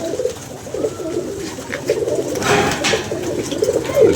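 Low, soft pigeon coos repeat in a steady rhythm, close by, with a faint rustle and background hiss.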